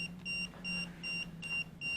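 A K2 EMF meter inside a farmhouse beeps in a steady run of short, evenly spaced high-pitched tones, about five in two seconds, over a low background hum.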